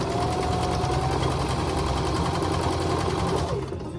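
A Viking Emerald 118 sewing machine runs and stitches at a steady, fast mechanical whir, close and continuous, easing off at the very end as the machine slows.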